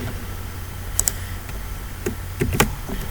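Text is typed into PowerPoint on a computer keyboard. A few sparse, close keystrokes and clicks come in small clusters over a faint background hum, with no talking.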